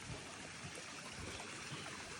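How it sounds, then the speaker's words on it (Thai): Small forest stream along a trail in Pha Taem National Park, a faint, steady trickle and wash of flowing water with nothing else in the foreground. "โอ้ลำธารงามขนาดพี่น้อง"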